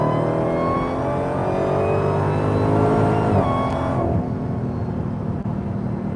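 A Dodge Demon 170 accelerates hard, its engine roaring loud and close from inside the cabin with rising revs and a brief shift before the tone drops to a lower rumble.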